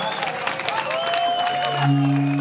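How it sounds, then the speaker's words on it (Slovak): Applause and crowd noise at an outdoor kettle-cooking contest in Ponická Huta as the winning team of women is announced, a steady clatter of clapping with a sustained tone entering near the end. "veľký potlesk pre ne, priatelia"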